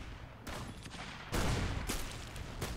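Gunfire in the Roblox game Arsenal: a few sharp bursts of shots in quick succession, the loudest around the middle, over a low game background.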